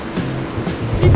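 Strong sea waves surge and crash in a dense, loud wash of surf with wind buffeting the microphone, up close on the shore.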